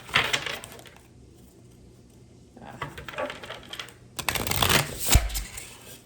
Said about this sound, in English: Bear with me with this shuffling.